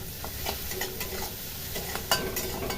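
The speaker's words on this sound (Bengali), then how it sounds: "তাতে নরম হবে ভাজা ভাজা হয়ে যাবে" Salted onions fry in a pan and are stirred steadily, a close, continuous sizzle broken by scraping strokes of a spoon, with one sharper clatter near the end.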